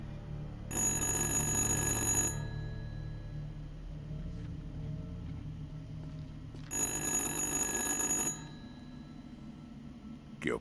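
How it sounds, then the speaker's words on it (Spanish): A telephone rings in the video game Little Hope, two clear bursts of bright electronic ringing a few seconds apart, with quiet ambience between and no talk. "¿Cómo que ahora el teléfono suena sin cable?"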